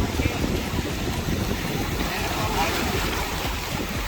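A water taxi boat rocking in the surf off Cabo San Lucas, with continuous rushing waves, wind buffeting the microphone and a steady wash of water, loud and close.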